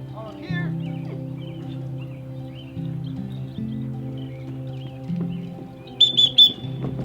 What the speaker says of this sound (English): introducing the whistle comes when you're saying here